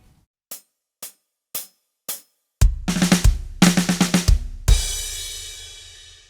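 A song's intro drum fill is played at 104 BPM: four sparse count-in clicks, then a quick, loud tom and snare run that ends in a ringing cymbal crash fading out.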